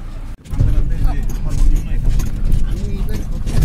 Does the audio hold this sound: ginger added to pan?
no